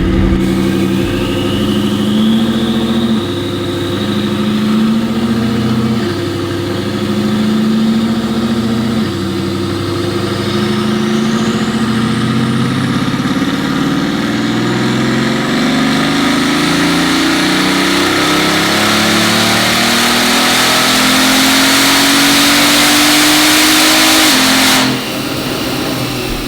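Bugatti Veyron engine revving in repeated loud pulls, close and dominant, with a faint rising turbo whistle early on. Later it winds up into a strong rush of air before cutting off abruptly near the end.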